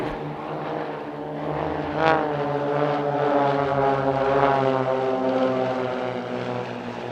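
A propeller aircraft sweeps past low on its final pass at an airshow in Leszno, its engine drone swelling and shifting pitch as it nears and passes, loud and sustained without speech.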